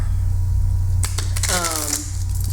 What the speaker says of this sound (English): they shuffle really easily. If you shuffle like that